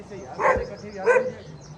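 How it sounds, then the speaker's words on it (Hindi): Village dogs in a jungle setting bark twice in quick succession at an arriving guest, fairly close, with people talking around them. "मामू ते को देख के कुत्ते भौंकदे"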